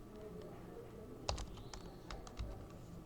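A name being typed on a computer keyboard: quiet, close, uneven clusters of key clicks with a couple of slightly heavier strokes, over a faint room hum.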